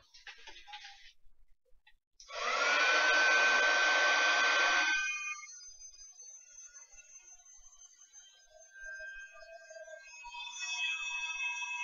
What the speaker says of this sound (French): Je vais sécher.